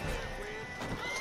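A horse in Red Dead Redemption 2 whinnies amid hoof clatter and game noise. It is a brief, moderately loud neigh heard over dense background sound.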